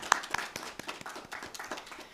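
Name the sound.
applause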